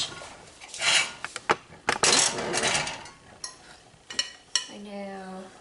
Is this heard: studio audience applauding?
no